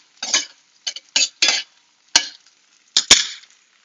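A spoon stirs mushroom ragout in a pan, giving six or seven separate scraping clinks in uneven bursts with short quiet gaps between them, close and fairly crisp.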